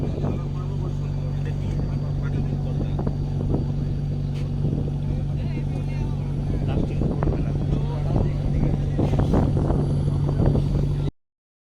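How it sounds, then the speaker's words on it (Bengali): A passenger launch boat's engine drones steadily with a low, constant hum, joined by wind and water noise and occasional knocks, continuing without a break for about eleven seconds. "এটা লঞ্চ।"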